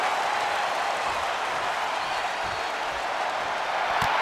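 A wrestling arena crowd in WWE 2K25 roars in a steady, continuous wash of cheering and applause at an NXT event, with no break in the noise.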